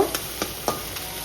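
A spoon stirs grated ginger and cumin powder in a hot pan, giving four soft, evenly spaced scraping strokes over a faint sizzle, close and alone.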